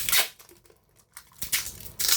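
Packing tape pulled off a roll and wrapped around a parcel in a Hong Kong home, giving several loud crackling, tearing bursts separated by quieter gaps, with no voices.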